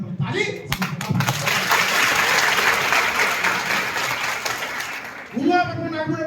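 An audience at a college poetry recital and ring ceremony bursts into sustained applause, a dense wash of clapping lasting several seconds, with voices speaking before and after it.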